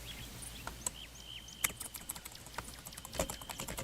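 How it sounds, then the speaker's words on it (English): Fingers typing on a mechanical computer keyboard, a quiet irregular patter of crisp clicks close by, with faint chirps in the background. "my keyboard's all a mechanical keyboard"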